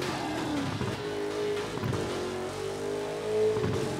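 A car drifts in the racing game Burnout Paradise, its engine droning and revving with shifting pitch while tires whine under steady, fairly loud motor noise.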